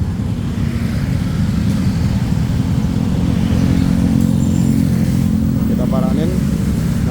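Motorcycle fitted with an SKR racing exhaust in place of the stock muffler, its engine running loud and steady at close range with low throbbing exhaust note throughout, some voices faintly underneath.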